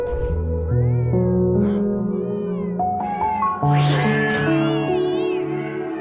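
Cats in a cat cafe from the Family Guy cartoon meow and caterwaul over and over, loud and near, with many overlapping cries rising and falling in pitch over a faint background bed.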